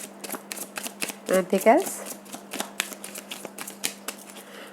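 Tarot cards are shuffled and drawn in a quick run of crisp, papery riffles and flicks, close and fairly soft, with a short spoken question breaking in partway through.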